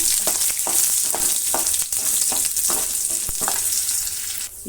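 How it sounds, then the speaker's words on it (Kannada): Chana dal, urad dal and cumin frying in hot oil, giving a loud, steady sizzle with a run of regular spoon strokes scraping the pan, all close by and free of talk. "ಒಂದು ಸ್ಪೂನಷ್ಟು ಕಡಲೆಬೇಳೆ ಕಾಲು ಸ್ಪೂನಷ್ಟು ಉದ್ದಿನಬೇಳೆ ಸ್ವಲ್ಪ ಜೀರಿಗೆ ಹಾಕಿ ಫ್ರೈ ಮಾಡೋಣ"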